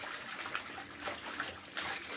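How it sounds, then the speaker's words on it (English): Vegetables for vegetarian kimchi swish around in a bowl of rinsing water, soft sloshing and trickling sounds rising and falling quietly in small irregular surges. "give it a good swish"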